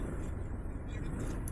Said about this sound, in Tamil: செம்ம டிராஃபிக் வருங்க